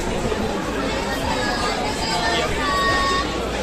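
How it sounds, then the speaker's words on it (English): Dense crowd chatter and babble fills a busy evening street, a steady wash of many overlapping voices close around with no single voice standing out. "look at the crowd. The street is full of people."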